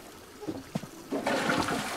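Cartoonish toilet flush in the Animal Crossing video game: a short clunk and a couple of drips, then a steady rushing swirl of water that carries on to the end.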